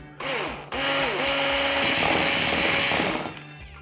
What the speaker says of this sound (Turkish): Tekrar çırpıyorum.